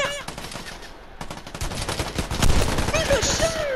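Gunfire in The Last of Us, rapid cracking shots in a dense burst that swells toward the end, heard up close under someone talking.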